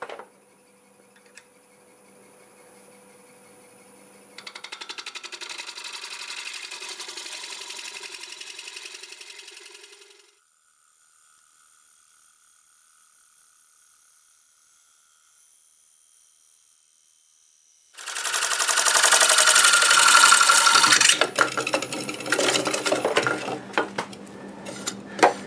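A wood lathe fitted with a ring cutter slices a curved bowl ring from a flat board, with two bursts of cutting: a softer steady stretch first, then a louder, rougher cut after a quiet pause.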